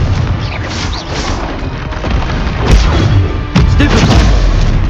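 Loud, dense magical blasts from a Confringo fire spell in the video game Hogwarts Legacy, rumbling booms and crashing hits layered over continuous combat noise, with a heavy impact midway and another near the end.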